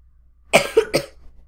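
Three short, sharp coughs from one person, close and loud, bursting out in quick succession with a brief gap between each before going quiet.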